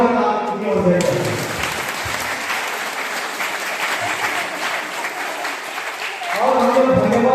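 An audience at an International Youth Day celebration in a Jharkhand parish breaks into loud, sustained applause for several seconds, with a voice heard briefly at the start and end.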